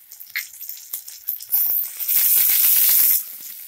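Curry leaves dropped into hot oil for a drumstick-leaf bassaru, a few crackles and pops followed by a loud, steady hiss of sizzling that holds for over a second before easing to a softer fizz.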